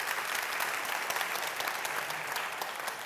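A live comedy audience claps together in a sustained, even burst of applause that fills the room steadily from start to finish.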